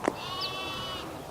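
A single sheep bleats near a corral, a brief wavering call over quiet background hiss.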